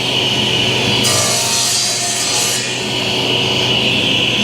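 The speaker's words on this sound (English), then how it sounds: "We're going to be cutting these stiles first." A power saw cuts wooden stiles for a Shaker-style vanity door in a workshop, a loud continuous whine that rises in pitch as the blade bites in for about a second and a half, then settles.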